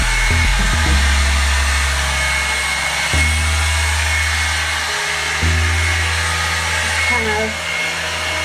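A Revlon hair dryer styler runs steadily on its low heat setting, a loud continuous whir close by with slight shifts in pitch as it is moved, while a voice speaks briefly over it.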